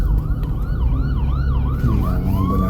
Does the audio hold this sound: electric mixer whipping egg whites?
no